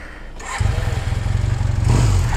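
Honda CB 450 DX motorcycle engine starting, a short cranking burst before it catches and settles into a loud, close, rhythmic idle that gains slightly in force.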